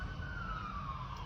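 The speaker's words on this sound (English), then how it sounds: "it's appropriate that we're hearing sirens passing." Emergency vehicle siren wailing outside in Jamaica, a steady rising-falling tone heard at moderate distance over low background rumble for just over a second, with no talk.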